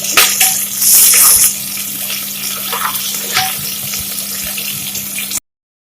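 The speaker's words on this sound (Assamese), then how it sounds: "ভাজিব লাগিব অলপ গোল্ডেন কালাৰ ভালকে ভাজিব লাগিব" Chopped onions frying in hot oil inside a pressure cooker until golden, a steady, loud sizzling hiss with brief scraping stirs and a low hum underneath, cutting off abruptly near the end.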